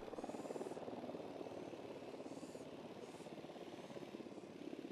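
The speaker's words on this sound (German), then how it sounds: "Das werden wir ein bisschen mit der Drohne machen." A surveillance drone flies in the video game Ghost Recon Wildlands, a faint steady rotor buzz with rhythmic pulsing and no talk over it.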